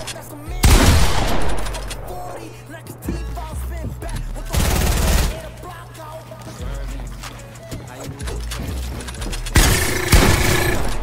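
Bursts of gunfire from a video game, loud blasts in about three clusters with quieter stretches between, while players talk excitedly over the action.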